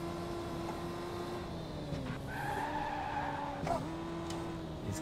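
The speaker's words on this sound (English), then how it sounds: "These cars like the power slide too." Race car tyres squeal through a long power slide in Victory: The Age of Racing, a sustained screech over a steady engine drone that shifts pitch mid-slide and flares again near the end.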